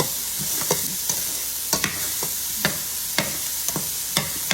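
Mushrooms and peppers sizzle in a pan while being stirred, with a steady frying hiss broken by a series of sharp scraping and tapping strokes, close and alone without talk.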